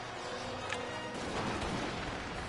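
Dense, muffled gunfire in a video game battle, a steady rumbling wash of shots with a slight swell midway, fairly faint and distant with no talk over it.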